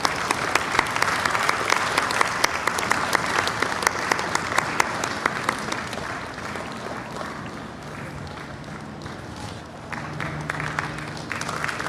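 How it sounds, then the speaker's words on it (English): A large festival crowd at the World Cultural Festival in Washington, DC, claps in sustained, dense applause that stays loud for the whole stretch, with some cheering and a faint voice underneath near the end. "Let's put our hands together."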